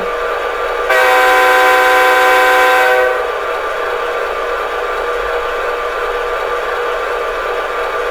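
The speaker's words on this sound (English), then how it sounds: "Let's go ahead and unmute our locomotive right now. We blow our horn." Horn of a Bachmann Dash 9 44CW model locomotive with a sound decoder, one sustained multi-tone blast of about two seconds, loud and close, then a steady electronic hiss, no voices.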